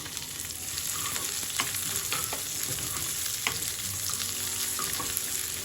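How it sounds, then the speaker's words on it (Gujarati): Finely chopped onion fries and sizzles in a pan for idli chutney, making a steady crackling hiss broken by occasional scraping stirs, close and continuous with no voices. "હવે લગભગ 1 થી 2 મિનિટ માટે આપણે ઓનિયનને થોડો સોફ્ટ થાય ત્યાં સુધી કૂક કરી લઈશું"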